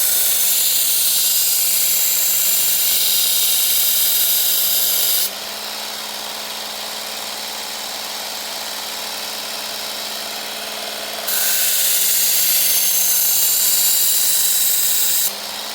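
A belt grinder sharpens a Camillus carbonitride knife blade, giving a loud, steady abrasive whine and hiss. Its intensity steps down partway through and then rises again as the blade's contact with the belt changes. No voices.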